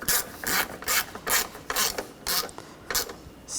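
A ratchet tightens bolts on a 2013-2019 Ford Escape during an upstream O2 sensor replacement, making about seven evenly spaced, close, crisp clicking strokes in a steady rhythm.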